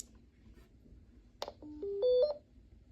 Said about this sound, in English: you turn the volume knob until it clicks, and you hear the radio play its power-up tone